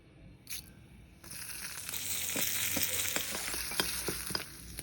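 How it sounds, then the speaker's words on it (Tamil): Mustard seeds, urad dal and coconut fry in oil in a pan, a steady close sizzle with scattered sharp pops and crackles from the seeds, louder after the first second. "ஒரு கடாயில் எண்ணெயை ஊற்றி கடுகு, உளுத்தம்பருப்பு, தேங்காயும் வறுத்துங்கோ."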